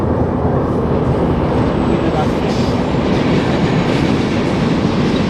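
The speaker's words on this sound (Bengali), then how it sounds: "আর পাশে ট্রেনের শব্দ হচ্ছে, এই পাশে ট্রেন চলে, রেল লাইন আছে, কিছুক্ষণের মধ্যেই ট্রেন আসবে।" A passenger train rolls past on a village railway line in Chuadanga, a loud, continuous close rumble of wheels and carriages with faint clatter, steady throughout with no pause.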